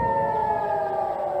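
Civil defense sirens sound across Tel Aviv as rockets fly in from Gaza, one continuous held wail at fairly strong level, with no voices.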